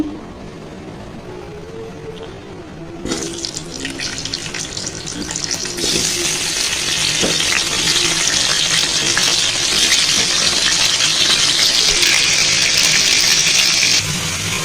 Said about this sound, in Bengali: ওই একে তেলে আমি আলুটা ভাজা করব